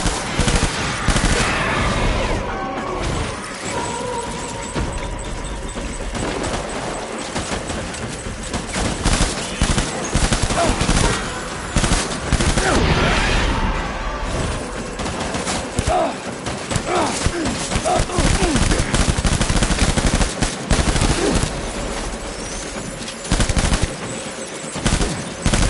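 A sustained firefight in Death Stranding Director's Cut, with bursts of machine-gun fire and repeated shots packed closely over a noisy, busy backdrop, loud from start to finish.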